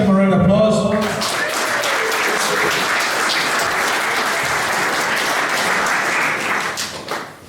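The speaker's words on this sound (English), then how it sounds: "Give him a round of applause." Audience applause at a community talk on a band's history, steady dense clapping that swells after a brief spoken lead-in and tapers off at the end, filling the room.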